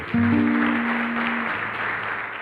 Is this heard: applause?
yes